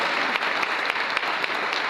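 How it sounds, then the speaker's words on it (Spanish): An audience at a church service claps steadily and densely, a continuous wash of applause with no voices over it. "Aplauda a su Señor."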